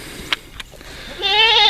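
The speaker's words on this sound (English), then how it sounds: "this old billy goat." An old billy goat lets out one loud, wavering bleat near the end, preceded by a couple of faint short noises, close to the microphone.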